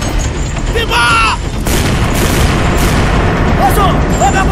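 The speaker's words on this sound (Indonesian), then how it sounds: "Bersiap meriam raya. Tembak." Ship's cannon fire in a dramatized naval battle, dense rumbling booms layered under loud continuous battle noise, with shouted voices and brief tonal cries mixed in.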